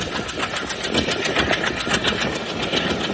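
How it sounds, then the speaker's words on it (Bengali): A non-stop special train bound for Dhaka runs through Jamdia railway station, heard from on board as a loud, steady rumble with rhythmic clacking of wheels over rail joints. "ঢাকাগামী special train through pass by Jamdia railway station."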